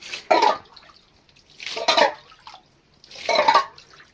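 Water is bailed from a leaf-choked canal while fishing, three rhythmic sloshing throws about a second and a half apart, each a close, splashy surge separated by quiet.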